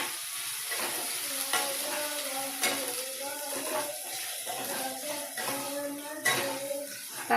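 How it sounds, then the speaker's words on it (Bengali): Capsicum being lightly fried in oil in a pan for chilli paneer gives a steady close sizzle, broken by scraping clicks as a spatula stirs it. "হালকা করে ভেজে নেব।"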